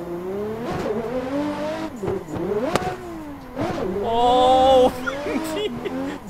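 A Toyota Supra A90 on a winding Pacific Coast Highway road, its engine revving up and blipping sharply on downshifts, with several rising and falling pulls and a loud sustained rev near the end.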